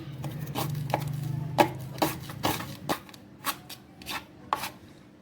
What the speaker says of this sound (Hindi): मैंने एक छोटी सी मीडियम प्याज ले लिया। ये देखिए, इसको भी मैं यहाँ पे कट कर लूँगी।